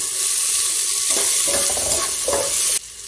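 Onion and tomato frying in a pan for a moong dal khichdi, a close, bright sizzle with stirring scrapes midway that cuts off sharply near the end.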